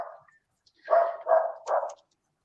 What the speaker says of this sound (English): There's some barking action going on there.